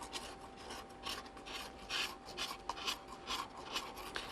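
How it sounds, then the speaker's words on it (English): A rasp files down hardening plaster of Paris on a restored pot: a continuous scratchy rasping with repeated back-and-forth strokes, close and fairly quiet, with no voices. "it's really essential to go over it and just take the edges off the rasp where the rasp has been"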